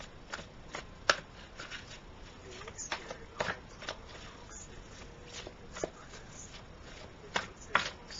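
Cards being shuffled and a single card drawn from a deck, soft papery riffles and sharp flicks and taps scattered irregularly, close and quiet.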